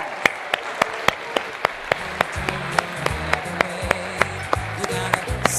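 Regular, rhythmic applause for school reading-program volunteers fills a room, with sharp, evenly spaced claps standing out over a steady crowd wash and a low hum of voices underneath.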